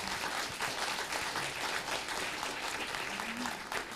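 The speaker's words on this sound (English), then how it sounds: "I would like another round of applause for our first panel session." Dense, steady applause from an audience at a science symposium, honoring a panel session; many hands clap evenly throughout with no pauses.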